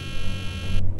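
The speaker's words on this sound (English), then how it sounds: "I'd better see what that alarm is about first" An alarm sounds in a Nancy Drew video game, a loud, dense buzzing electronic tone with a steady harmonic stack and a throbbing pulse, lasting about one second.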